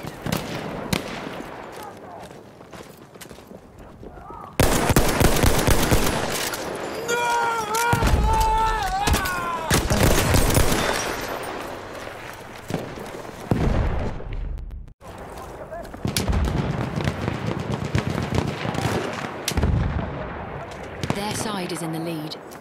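Mondragon rifle fire in the World War I shooter Battlefield 1, loud cracking shots and bursts amid battlefield explosions and noise, with in-game voices shouting between the volleys.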